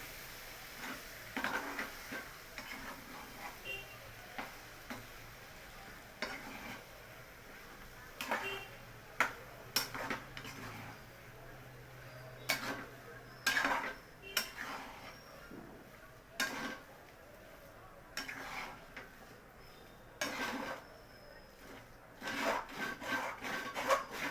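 Boiled potatoes being mashed and mixed into a vegetable filling for a Kolhapuri veg sandwich, repeated soft scraping and tapping strokes of a spoon in a pan, close but quiet, no talking.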